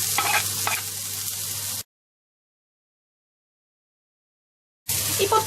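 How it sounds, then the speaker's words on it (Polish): Sliced onion hitting olive oil in a hot pan, a close sizzle with a couple of scrapes. It cuts to silence for about three seconds, then the frying resumes. "Rozgrzewam patelnię z niewielką ilością oliwy z oliwek i na gorącą dodaję cebulę."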